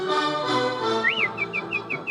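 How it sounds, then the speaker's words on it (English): A piercing human whistle rises and falls in one swooping note, then repeats as a string of short chirpy whistles, loud and close over a busy background. "My whistle, it'll pierce you sometimes"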